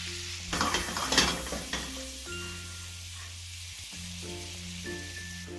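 Tuna steaks fry in a pan with a steady crackling sizzle, loudest early as they are turned and stirred, then settling into a quieter continuous hiss nearby without talk.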